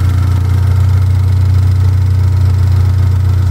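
Car engine fitted with an EFR turbo upgrade idles steadily just after startup, a loud, continuous low drone with a faint whirring spool-like tone above it, no talking.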